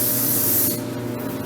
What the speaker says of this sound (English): The blue one is the working spray. So I'm going to just spray